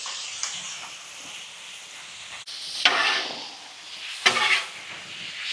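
Food seasoned with pink salt and ground pepper being mixed on a Weber Slate 36-inch griddle, a low sizzle broken by two loud scraping bursts of the spatula against the flat steel surface, up close.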